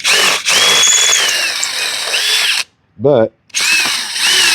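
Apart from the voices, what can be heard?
power drill drilling out rivets on a John Deere mower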